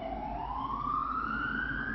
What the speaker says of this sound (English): Here is siren.